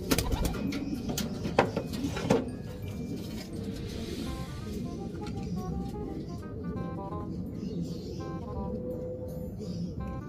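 Racing pigeons coo softly and repeatedly near a loft at a race arrival, low throaty calls layered over one another, with a few sharp knocks and rustles early on and faint chirps later.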